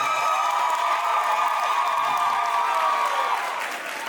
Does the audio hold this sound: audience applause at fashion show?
yes